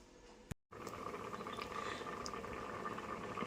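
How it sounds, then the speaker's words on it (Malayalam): Ash gourd curry bubbling in a pot, a soft, steady boiling burble heard close and alone after a brief click and gap near the start. "കറി നന്നായി തിളച്ചിട്ടുണ്ട് കേട്ടോ."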